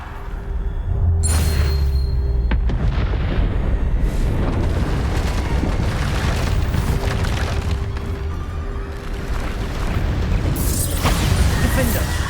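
Booming explosions from the Bombarda spell in Hogwarts Legacy, heavy low rumbles rolling one after another through a loud, continuous spell-combat din.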